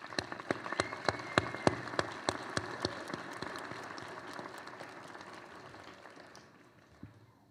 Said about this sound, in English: let's give those folks a big round of applause